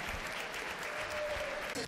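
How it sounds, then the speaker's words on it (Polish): A crowd at a university open day at AWF Biała Podlaska applauds the personal trainer programme. The clapping is faint and steady, spread across the room, with a voice talking over part of it. "wielkie brawa dla kierunku trener personalny!"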